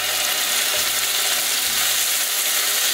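Three beef fillets for beef Wellington searing in a hot pan give off a loud, steady, dense sizzle that runs unbroken throughout, with no talking.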